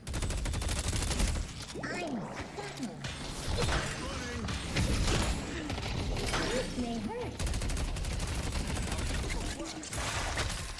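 Rapid gunfire and sharp headshot hits from the hero shooter Emissary fill the whole stretch, dense and loud with overlapping bursts and mechanical clicks, with game voices mixed in.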